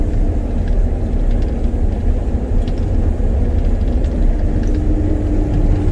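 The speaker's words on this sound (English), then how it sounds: "We're actually making the combine work a little bit here" A combine harvester labors uphill in a barley field, its engine a loud, constant, heavy rumble that stays steady throughout with no voices.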